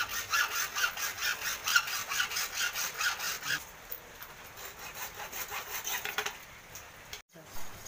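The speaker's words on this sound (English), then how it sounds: "first of all I will cut 2 pieces of bamboo" A bamboo stick being cut by hand, with a steady back-and-forth sawing rhythm of rasping strokes close up, briefly pausing near the end.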